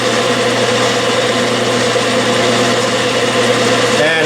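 A metal lathe turning at 600 RPM while a vertical shear tool cuts with about a two-thousandths feed per revolution, giving a steady continuous mechanical hum and whine, loud and unbroken throughout.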